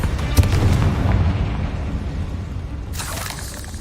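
A Confringo blast spell from the Hogwarts Legacy game detonates as a deep, rumbling boom that holds loud for a few seconds, followed by a brighter crackling burst near the end.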